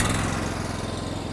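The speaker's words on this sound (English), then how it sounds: "Once the engine has started to run and warms up, open up the choke all the way." The engine of a zero-turn Snow Rhino snow plow runs steadily at idle, a dense close mechanical drone with a continuous low rumble and no talking.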